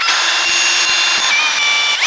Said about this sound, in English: I'm just gonna use the smallest drill bit I got, which is this guy, and hope it's okay.